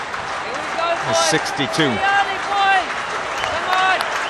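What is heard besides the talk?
England supporters' hand claps at cricket Test in Durban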